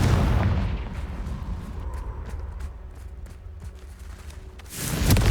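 A Confringo blasting spell cast in Hogwarts Legacy makes a loud booming burst at the start. A rumbling wash of game sound and scattered crackles follows, then another heavy blast swells near the end.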